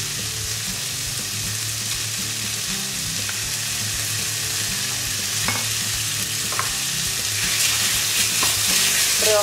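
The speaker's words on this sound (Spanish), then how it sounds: "Rehogamos bien." Vegetables with salmorreta sauté in a paella pan, a continuous close sizzle and fry with occasional scraping stirs, steady and loud, without talk.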